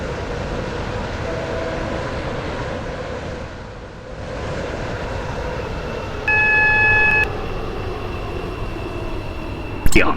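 A metro train in the Stepford County Railway game runs with a constant loud rumble that dips briefly midway, and a short beeping chime rises over it near the end.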